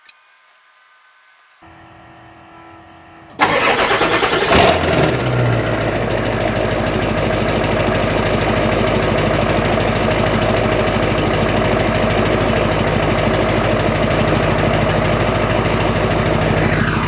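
A Ford 7.3 Powerstroke diesel cold-starts on a mild 40-something-degree day. After a few seconds of near silence it fires loudly and settles into a steady, close, rumbling idle that runs without a break.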